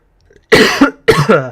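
Two sharp, close coughs in quick succession after a brief silence.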